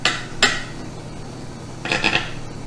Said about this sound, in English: let's give this a cut